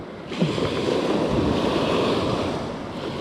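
Ocean surf breaking along a fishing shore, a steady broad wash of waves with wind buffeting the microphone, continuous and moderately loud with no talking.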